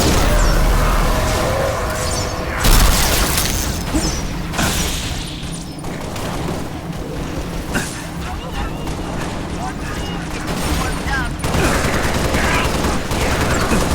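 Rapid gunfire and booming blasts fill a battle in the video game Halo: Reach, with bursts and explosions going on under shouted radio-style voices throughout.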